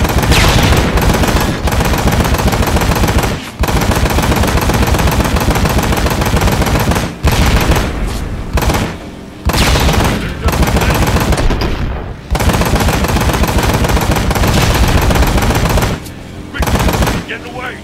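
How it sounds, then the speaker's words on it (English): Rapid gunfire in the video game Ride to Hell: Retribution, sustained machine-gun bursts broken by brief gaps, loud and close, almost continuous for the whole stretch. "you're just constantly pelting me with bullets"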